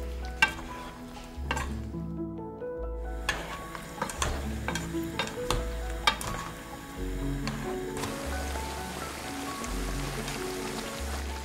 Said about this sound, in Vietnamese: Nêm nếm xong rồi thì mình cho phần cải chua đã chuẩn bị vào nè. Trộn lên cho nước kho ngấm đều cải.